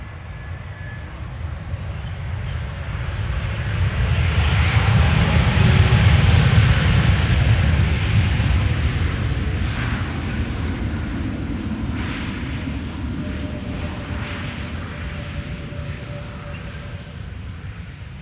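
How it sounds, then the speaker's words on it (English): A JetBlue Airbus A321neo arriving from Boston lands at Amsterdam Schiphol with a rumbling jet roar that swells to a peak midway, then slowly fades while still audible, with no talking. "this is JetBlue arriving from Boston, A321neo, flight"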